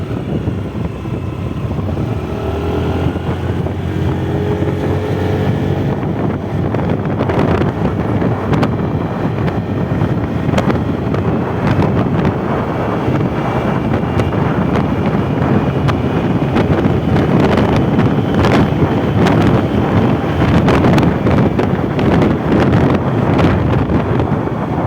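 Honda 110cc motorcycle ridden at top speed, a steady engine drone largely buried under heavy, continuous wind rush on the microphone throughout.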